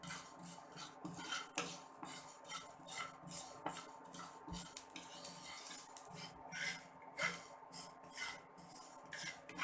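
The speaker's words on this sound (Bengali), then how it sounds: "মেথি এবং মোহরি। এগুলো শুকনো খোলায় সুন্দর করে ভেজে নেব।" Fenugreek and mustard seeds are dry-roasted in a pan for pickle, with quiet, busy rattling and repeated scraping strokes of a spatula on the metal, fairly faint and without speech.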